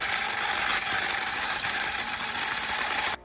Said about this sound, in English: I'm just gonna whisk these ingredients together until everything is combined